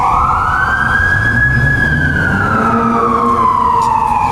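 A fire truck siren wails on a windy day at a historic burying ground, its tone sweeping slowly up and down, loud and steady with gusty wind noise beneath and no talking.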